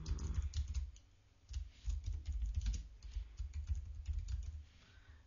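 Fingers type on a computer keyboard nearby in a quiet room, a steady patter of key clicks with a brief pause after the first second.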